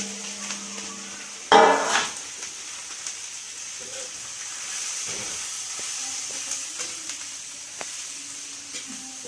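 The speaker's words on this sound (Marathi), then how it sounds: "हा मिरच्या बघा भाजल्या, तेलामध्ये छान भाजून घेतल्या" Chillies frying in oil in a pan over a low wood-fired flame give a steady, soft sizzle throughout, with one brief louder burst near the start.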